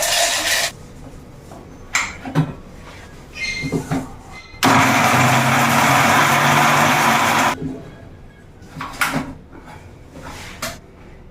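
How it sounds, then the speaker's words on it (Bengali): An electric mixer grinder powders fifty grams of mahogany fruit seeds in a single loud, roaring burst of about three seconds. Scattered clicks and clatter of the jar being handled come before and after. "পঞ্চাশ গ্রাম মেহগিনি ফলের বীজ রয়েছে এটাকে আমি মিক্সিতে গুঁড়ো করে নেবো"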